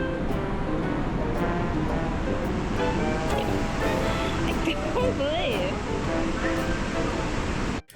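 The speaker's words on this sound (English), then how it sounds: "the waterfall was in full force, with water crashing into the rocks below" Waterfall in full force in Khao Yai National Park, Thailand, water crashing onto rocks below as a steady, loud broadband roar throughout, with people talking over it.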